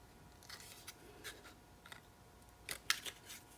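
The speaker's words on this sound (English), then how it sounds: "I'm gonna cut straight across until I get to the stand" Scissors snip through a milk carton in a few short, crisp, faint cuts, with a quick cluster of sharper snips near the end and no talking.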